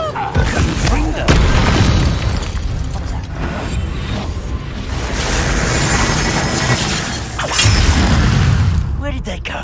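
Several booming fire-spell explosions from Confringo in Hogwarts Legacy, crashing bursts at irregular intervals over a busy game soundscape, with a voice talking in between.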